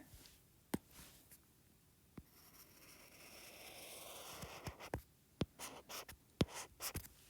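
A pen scratches across paper drawing a perpendicular line segment for a geometry lesson, a soft, close, continuous scraping stroke broken by faint taps and clicks.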